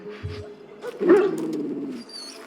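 A Mabari war dog in the video game Dragon Age growls weakly, a low rumbling sound over game ambience with faint bird-like chirps.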